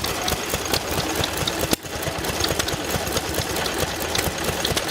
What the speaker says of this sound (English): Driving a little corn grinder by the look of it.